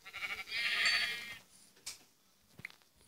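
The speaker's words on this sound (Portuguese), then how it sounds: "Ovelha!" Sheep bleating in a video game, a couple of bright wavering calls over faint background ambience, with a few sharp clicks afterward.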